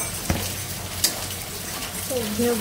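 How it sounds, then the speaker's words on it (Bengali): Mixed spices are stir-fried in a pan as the base for a fish curry, with a short stretch of soft sizzling and a few scraping stirs of a utensil against the pan. "সব রকম মশলা দিয়ে কষিয়ে নিচ্ছি"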